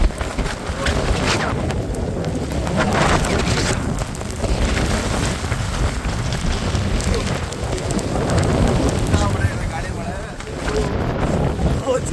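Heavy rain in Coorg pours steadily in a dense hiss, with wind rumble underneath and a person talking over it.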